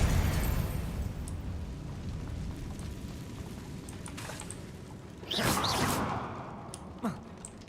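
In the video game Hogwarts Legacy, a Confringo explosive spell goes off over a rumbling, crackling battle backdrop: one loud whooshing blast lands about two-thirds of the way through, followed by a short sharp pop near the end.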